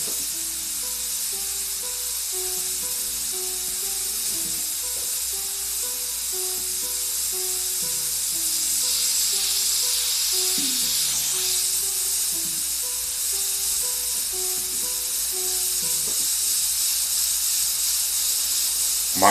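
Compressed air hisses steadily from an airbrush in a studio, a constant close hiss running the whole time over faint low background tones.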